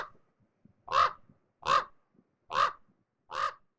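An American crow gives four evenly spaced, harsh caws, clear and fairly close against a quiet background.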